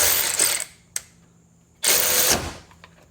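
A DeWalt DCF513 cordless ratchet loosening a tight bolt, with two short loud bursts of motor whir separated by a sharp click and a quiet pause, close up.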